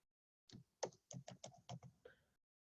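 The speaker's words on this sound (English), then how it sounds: "I'm typing it out for you." Quick bursts of typing on a computer keyboard, about nine distinct close taps and key clicks in an uneven rhythm, clear against silence with no talking.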